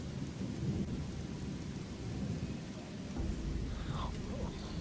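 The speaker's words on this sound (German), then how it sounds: "Kann der Regen mal aufhören, bitte?" Steady rain and rumbling thunder from a stormy scene in the video game Gothic 2, a constant low roar of downpour with a deeper thunder swell near the end, with no speech over it.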